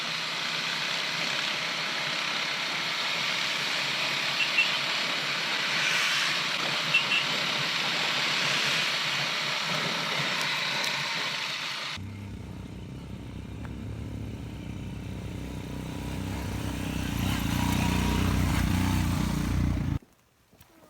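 Royal Enfield Himalayan motorcycles climb the misty Sintan Top mountain pass in India: a steady roar of rushing wind gives way to a low, continuous engine drone, with no voices.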